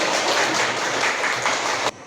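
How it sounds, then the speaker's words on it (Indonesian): A classroom group applauds after a student presentation, a dense steady wash of hand clapping that carries on evenly for nearly two seconds and then stops abruptly, leaving quiet room tone. "Oke, kita boleh tepuk tangan."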